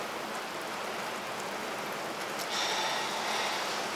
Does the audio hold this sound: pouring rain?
yes